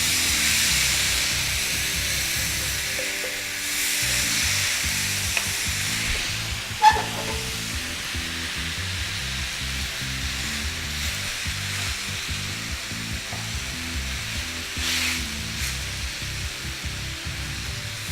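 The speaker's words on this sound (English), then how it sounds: "While we're just waiting for those ribs to cook up and get nice and caramelized with that sauce" BBQ ribs in sauce sizzle steadily in a hot pan, a continuous hissing fry close by with occasional louder pops and spits and no speech.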